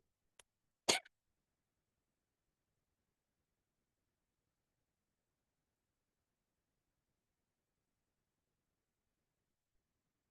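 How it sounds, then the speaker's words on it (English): A single short cough from one person indoors, a brief faint sound near the start followed by a louder burst about a second in, then silence for the rest. "I have a little cough"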